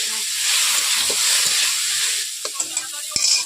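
Loud, steady hiss of half-boiled potatoes frying in oil, with a few soft clinks of a utensil stirring toward the end.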